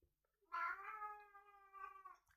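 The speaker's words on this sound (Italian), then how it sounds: "Direi che la gatta è d'accordo." A female cat gives one long, drawn-out meow that wavers and rises at the end, close and clear against a quiet indoor background.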